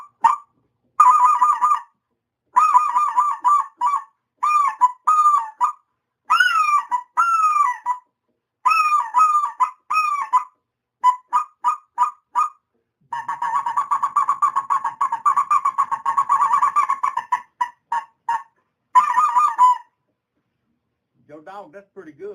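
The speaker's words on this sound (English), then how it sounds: "his duck calling with his speckle-bellied goose call" A speckle-bellied goose call is blown in rapid, high-pitched honking yelps and clucks, repeated in short bursts with brief pauses, then a long rolling chatter.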